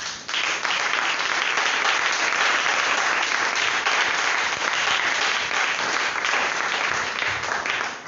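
A church congregation applauding in acclaim of the Lord, a dense, steady, loud burst of clapping from many hands lasting several seconds, with faint voices mixed in.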